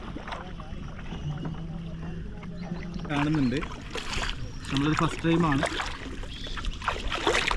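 Paddling through mangrove waters near Varkala, split between a traditional wooden boat and a kayak: soft water swishes and light wind noise, with several people talking over it.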